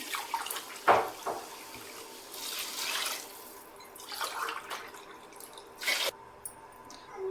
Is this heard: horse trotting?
no